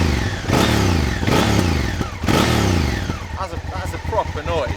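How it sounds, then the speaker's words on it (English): A 2016 Honda Africa Twin V-twin motorcycle roars loud and close through its stock exhaust, rising three times in quick revs. It then settles into a lumpier, burbling note. "Honda somehow managed to squeeze a really impressive exhaust note from that stock exhaust"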